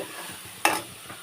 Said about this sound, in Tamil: இப்போ பூண்டு பேஸ்ட்டை ஒரு ரெண்டு நிமிஷம் வதக்கி விட்டுடலாம்